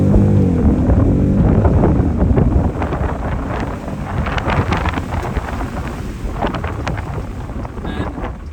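A 2022 BMW M550i with its 530 hp V8 launches hard under launch control, a loud, continuous engine roar and rush of wind that stays steady for the whole stretch, with a slight drop in level partway through.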